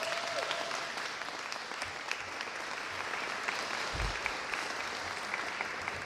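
Audience applause at the Illinois governor's signing of a $50.6 billion state budget, a steady, moderately distant roll of many hands clapping that keeps an even level throughout.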